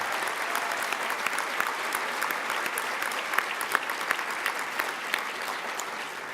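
Steady, dense applause fills a banquet hall, honoring the serving and kitchen staff who brought the evening's meals; the clapping is even and sustained at moderate loudness with no break.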